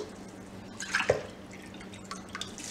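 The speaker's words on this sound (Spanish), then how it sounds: "Le vamos a agregar las 3 copitas de agua primero." Water poured from a small cup into a pot of congrí beans, a short splashing burst near the start, then quieter drips and trickles in a kitchen.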